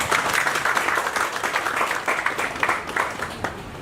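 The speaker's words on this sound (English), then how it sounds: "Another round of applause for him." A conference audience at a maritime industry event claps in steady applause, dense and even for a few seconds, with no voices over it.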